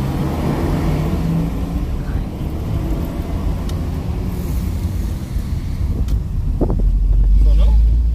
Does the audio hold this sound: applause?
no